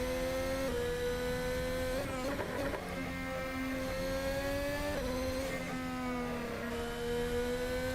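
Ferrari SF-75 Formula One car engine on the Jeddah circuit in Assetto Corsa, a loud, steady high-pitched whine that swings up and down through gear changes and throttle shifts, heard alone without voices.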